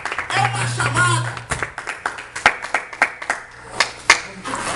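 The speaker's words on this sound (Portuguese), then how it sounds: "uma salva de palmas aí nessa noite" A round of applause from a church congregation at an evening service, many hands clapping in an uneven patter after a pastor's voice at the start, with sharp individual claps standing out.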